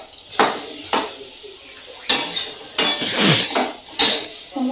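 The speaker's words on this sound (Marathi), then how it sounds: "आणि हे आता असं सगळं पूर्ण असं मिक्स करून घ्यायचं" A spoon clanks against a metal pan as crushed peanuts are mixed into a coriander vegetable dish, making loud, close, irregular metallic knocks and scrapes with brief pauses between them.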